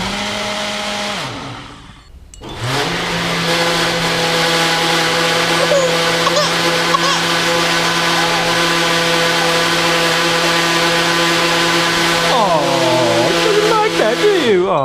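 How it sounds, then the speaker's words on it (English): A kitchen blender motor revs up after a brief pause and runs loudly and steadily, whining with shifting pitch as it chops, then winds down near the end. "She doesn't like the sound of the blender."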